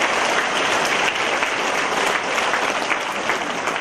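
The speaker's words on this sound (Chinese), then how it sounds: "请鼓掌。" Dense, steady applause from the audience at a Dharma talk during a 2016 Dharma assembly on Batam Island, Indonesia, filling the room evenly for a few seconds without speech.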